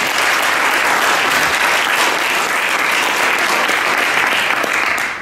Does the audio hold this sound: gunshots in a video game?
no